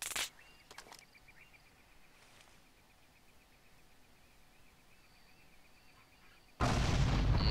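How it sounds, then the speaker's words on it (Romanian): Explosion in Far Cry 2 that erupts suddenly and loudly near the end after a long quiet stretch, following a couple of brief sharp pops at the start. "O să bubuie, nu?"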